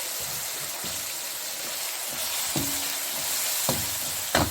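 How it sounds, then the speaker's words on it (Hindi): Ground spice masala frying in a pan for chicken jalfrezi, a steady close sizzle with a few sharp scraping stir clicks near the end, no voices. "इसको हम मसाले को इसके अंदर भून लेंगे।"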